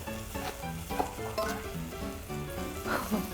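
Ingredients stir-fry in a pan with a continuous sizzle and irregular stirring bursts, while faint voices murmur underneath.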